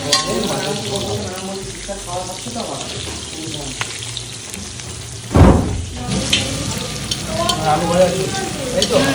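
Eggplant fries in a pan after a batch of fish, giving a continuous sizzle with stirring scrapes, a loud clatter midway, and voices talking over it in a busy home kitchen.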